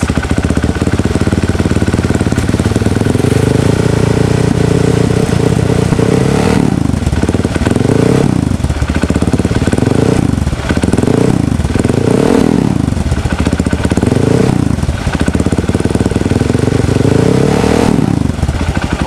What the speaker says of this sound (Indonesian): On-kan lagi. Biarkan dulu sampai stasioner.